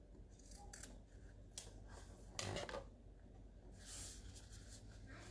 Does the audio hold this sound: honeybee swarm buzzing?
no